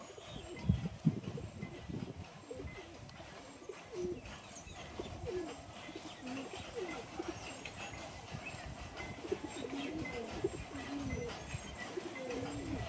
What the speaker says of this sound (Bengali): এই যে এটা একটা কাসুরি নর, তো এটা আমার শখের পায়রা